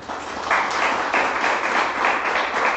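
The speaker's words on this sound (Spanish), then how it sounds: "Dale un aplauso a nuestro Dios" A church congregation applauds at the close of a service, a steady, dense wash of many hands clapping that swells slightly and holds for a few seconds without any voices.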